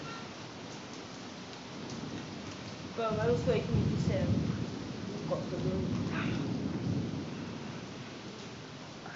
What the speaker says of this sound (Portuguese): A chuva continuou.